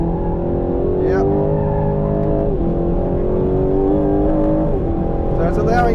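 A 2025 Aston Martin Vantage drives on a track, its engine droning loud and close with rising and falling revs as the throttle is worked, while someone talks over it.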